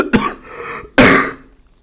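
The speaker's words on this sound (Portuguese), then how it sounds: "Desculpa aí pela tosse" A man who has the flu clears his throat and coughs twice, two sharp, close bursts a moment apart with a short raspy trail between them.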